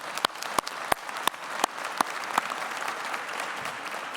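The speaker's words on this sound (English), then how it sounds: "So please join me in giving a round of applause." An audience at a quarterly award ceremony gives a round of applause: a few sharp, close claps land in a steady beat over a soft crowd wash, then settle into evenly blended clapping.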